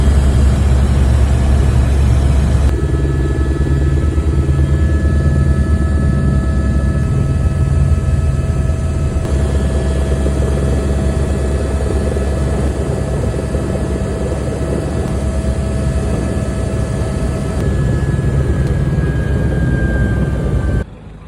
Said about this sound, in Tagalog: Ito yung unang sakay ko, yung helicopter na yan.